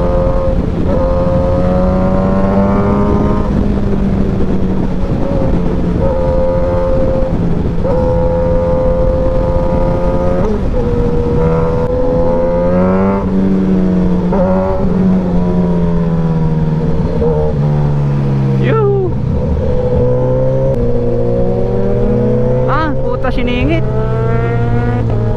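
A Suzuki GSX-S1000 1000cc motorcycle accelerates hard, its engine climbing through rising revs and gear changes, loud and close throughout, with a rider talking over it at times.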